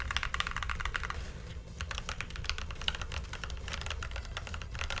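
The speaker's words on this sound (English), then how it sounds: "I have a mechanical keyboard" Steady, rapid clacking of keys on a mechanical computer keyboard, close and fairly loud, running continuously with no talk over it.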